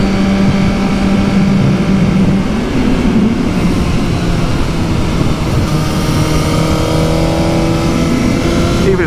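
A 2020 Suzuki GSX-R1000R motorcycle rides on a damp road, its engine a steady close drone blended with strong wind rush across the whole stretch, with no breaks or clear gear changes.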